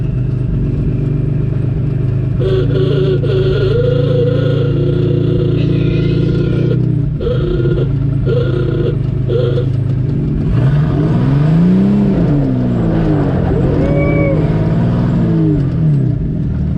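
V12 engine of a prototype car in snow, revving loudly and continuously with rising and falling pitch sweeps under occasional faint voices.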